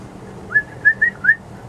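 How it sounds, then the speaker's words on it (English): A person whistles a short series of four clear, high notes with brief gaps between them to call manatees, set against quiet outdoor background noise. "It's my manatee whistle."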